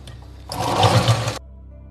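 A sewing machine stitching a blouse whirs in one short burst of just under a second, starting and stopping abruptly against a quiet room.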